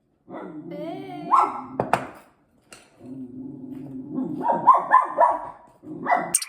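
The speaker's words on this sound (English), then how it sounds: "Excuse my dog." A pet dog yips and barks in a few short bursts close by in a home kitchen during baking, mixed with a person's voice.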